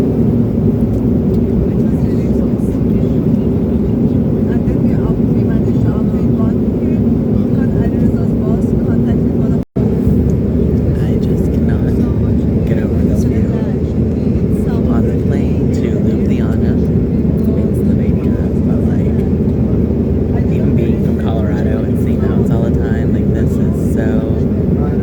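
A steady, loud, low drone of aircraft noise fills an airport in Germany, unbroken throughout apart from one brief cut partway through.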